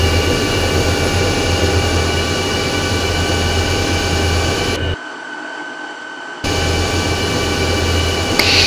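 The right jet engine of an F/A-18E spooling up in a flight simulator gives a loud, steady roar and whine with tonal hum that cuts out briefly before resuming.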